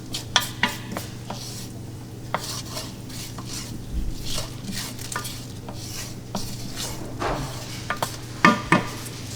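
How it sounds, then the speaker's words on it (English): Cumin seeds toast in hot oil while a utensil stirs them, giving a steady low sizzle broken by frequent sharp scrapes and clinks against the pan, a few louder knocks near the end, with no voices. "So I'm just going to add some cumin seeds to hot oil, and we're going to toast those, saute these for about 30 seconds"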